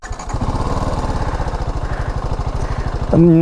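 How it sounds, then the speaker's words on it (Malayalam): TVS Apache RR 310 motorcycle engine running close by, a steady rapid thumping idle that swells into a louder rev near the end, with no talk. "എൻ്റെ എഞ്ചിൻ ഭയങ്കരമായിട്ട് ഇഷ്ടപ്പെട്ടു അതിൻ്റെ സൗണ്ട് ഒന്ന് കേൾപ്പിച്ചു തരാം"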